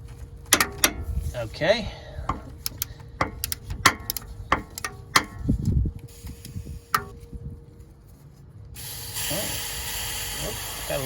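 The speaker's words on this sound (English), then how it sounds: "remove this bolt that holds the coolant lines on to the AC compressor. So that bolt is a 10mm bolt." A ratchet wrench loosens a 10mm bolt holding the coolant lines on the AC compressor of a 1997 Dodge Ram Cummins, giving sharp, close clicks in short bursts with metallic handling noises, followed by a steady hiss near the end; someone speaks briefly.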